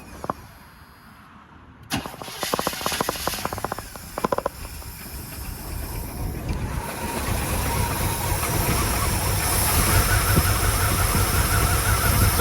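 A Chevrolet K10 truck engine, its carburetor float set too high, cranks in a rapid series of churning bursts, catches and then runs with a rough, rising, steady roar that grows louder to the end.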